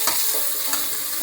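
Spices crackle in hot oil in a brief, dense burst of close sizzling, with a couple of sharper pops standing out.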